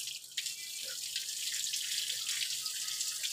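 Water pours and splashes steadily during a bath, a continuous hissing, faucet-like stream that runs close and fairly loud throughout with no voices.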